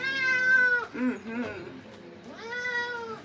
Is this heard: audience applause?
no